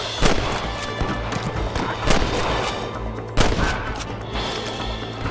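A Western shootout in Red Dead Redemption at Pike's Basin. Rapid gunshots crack repeatedly over a steady rumbling din, with a few louder, sharper blasts standing out.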